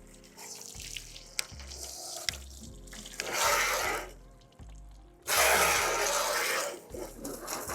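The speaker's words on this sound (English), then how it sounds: "this is with just the garden hose" A garden hose rinses down a car in bursts: two strong, splashing sprays of water, each lasting a second or more, over a low steady background hum.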